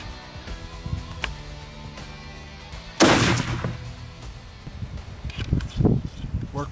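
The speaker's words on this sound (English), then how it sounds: "He wants to shoot, you know, the rifle." A rifle fitted with a new Burris scope fires one loud, sharp report outdoors while being sighted in, and the blast rolls off into a short tail. Quiet handling sounds come before it and faint rustling follows.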